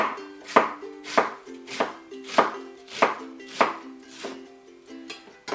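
A kitchen knife slices vegetable stalks diagonally on a cutting board for Japanese pork miso soup (tonjiru), striking about ten crisp chops at a steady, even rhythm, close and clear.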